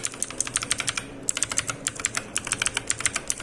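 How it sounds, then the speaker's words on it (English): Rapid, crisp clacking from an ANT E SPORTS MK3000 mechanical gaming keyboard being typed on, a close, steady run of keystrokes with a brief pause near the start. "This is a mechanical keyboard"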